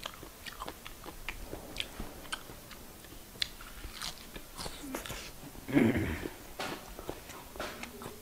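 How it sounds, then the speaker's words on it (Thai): Someone chews blanched squid close up, with soft wet bites and crunchy mastication repeating irregularly, one louder bite partway through and quiet talk in the background. "มา กินปลาหมึกลวกน้ำอุ่นครับ"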